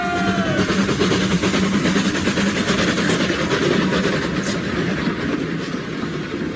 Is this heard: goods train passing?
yes